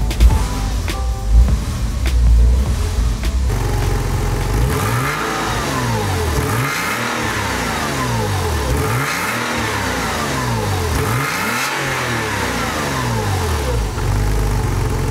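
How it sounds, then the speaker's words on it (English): A cheap used Porsche Boxster's engine is revved repeatedly in place, each blip rising and falling in a smooth sweep, loud and close, settling between revs into a steady idle hum. "The engine is actually really strong."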